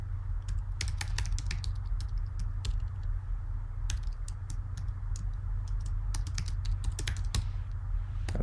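Fast, close typing on a computer keyboard: bursts of crisp key clicks in uneven rhythm over a steady low hum, with short pauses between runs of keystrokes.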